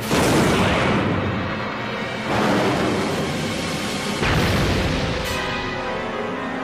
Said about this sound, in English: He's gonna fire his ghastly poison gas bomb!